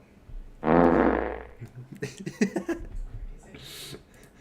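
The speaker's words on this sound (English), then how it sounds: "That was the most epic fart of the night." A long, loud, buzzing fart rips out at close range, followed by breathy laughter and chuckling from people nearby.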